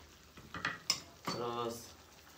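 Food fries in a pan while being stirred, with scraping and clinking of utensil against the pan in a few irregular bursts and a brief sizzle, close and fairly quiet.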